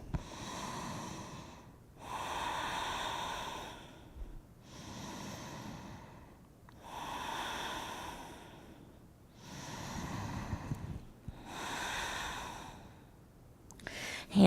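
Slow, deep breaths drawn during a yoga flow held in a wide-leg forward fold, each inhale and exhale long and airy, close to the mic, about six cycles with no talk over them.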